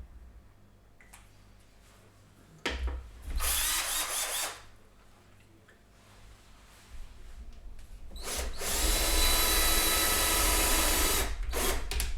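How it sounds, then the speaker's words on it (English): A power drill whines in two bursts, a short one and then a longer, louder run, over a steady low background hum. "I'm going to drill holes shortly."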